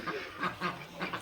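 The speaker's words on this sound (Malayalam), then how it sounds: "സ്നോ വൈറ്റ് ഡക്സ് കൊള്ളാല്ലേ." Snow-white ducks quack in short nasal bursts, four quick calls close by with brief gaps between them.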